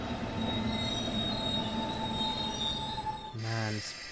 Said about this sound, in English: So a bit of braking in, slow train down a bit.